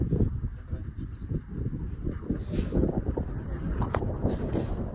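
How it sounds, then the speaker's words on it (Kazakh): Cold wind gusts across the microphone at a rural winter livestock slaughter, a loud, steady low rumble with buffeting surges throughout and no clear speech. "Да жақ жел ғой суық"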